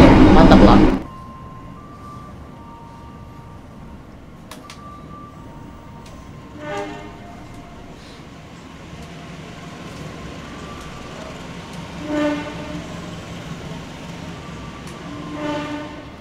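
An Erlangga passenger train in Indonesia rumbles steadily after a loud burst at the start, with occasional clanks and short tonal signals, arriving at Cikampek station.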